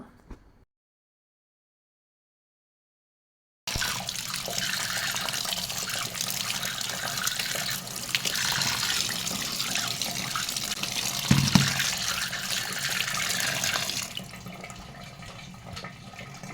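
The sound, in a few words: rinsing boiled flat noodles under cold tap water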